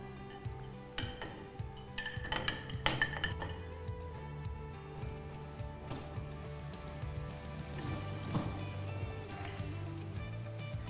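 Ceramic plate set into the rack of a Hafele dishwasher, giving several light clinks and clatters of dishware against the racks, close and moderately loud over a low steady hum.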